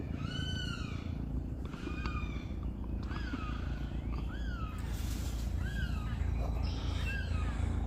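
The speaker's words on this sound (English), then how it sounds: "I'm hearing some birds doing some kind of calling." Birds call repeatedly outdoors at Leu Gardens, short rising and falling cries scattered across the moment over a constant low rumble of wind or traffic.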